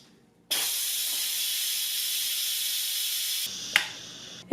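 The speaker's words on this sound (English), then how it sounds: "Turn the handle to venting using tongs. This will release the pressure." Steam rushes from the pressure vent of an Instant Pot Duo Mini electric pressure cooker in a loud, steady hiss lasting about three seconds, then cuts off sharply, followed by a brief click and a faint fading hiss.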